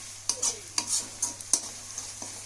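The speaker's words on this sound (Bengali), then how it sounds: "একটু ভালো করে ভাজা হয়ে আসছে।" Chicken fries in a pan while a utensil stirs it, giving repeated scraping strokes and clinks over a soft constant sizzle, close and fairly quiet, with no talking.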